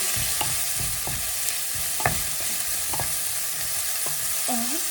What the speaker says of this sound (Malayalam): എന്നിട്ട് നന്നായിട്ട് ഇങ്ങോട്ട് ഇളക്കി കൊടുക്കാം കേട്ടോ